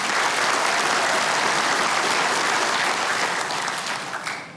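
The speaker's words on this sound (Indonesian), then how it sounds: "Kurang keras nih tepuk tangannya." A large audience at a Perindo party national working meeting claps loudly and continuously, a dense wash of applause that fades slightly at the end.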